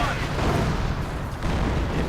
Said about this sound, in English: Heavy fire going on in the center as further howitzer shots are going off.